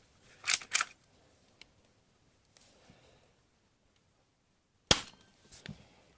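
A spring-powered airsoft Sig P226 pistol by KWC/Cybergun fires pellets: two sharp snaps close together near the start, a faint click, then another loud crack and a softer follow-up snap late on, with quiet gaps between and no talk.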